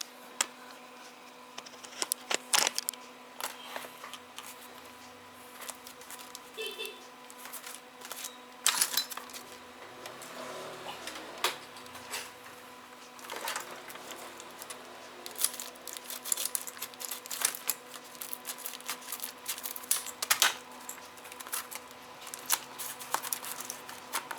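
Crinkling plastic and cardboard handling as a new GVM T210S solder station package is unboxed, with repeated rustles, taps and small clicks at close range and no talking.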